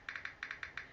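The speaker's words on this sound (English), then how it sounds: "try testing out the keyboard. So bring up the keyboard and then press on any random keys." Virtual keyboard key-press clicks on a Samsung Galaxy A06 phone: seven short, crisp taps in an uneven typing rhythm, close and fairly quiet, with no other sound.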